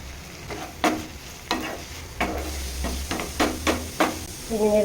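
Brinjal frying in a pan after a spoonful of Kashmiri chili powder goes in, a steady sizzle broken by a run of scraping stirs, close and fairly loud, with no talking.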